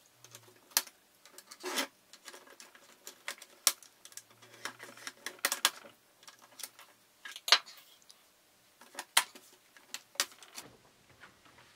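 Screws are worked loose from the underside of an ASUS S405UA laptop, giving sparse irregular clicks, ticks and small taps close by, with brief quiet gaps between them.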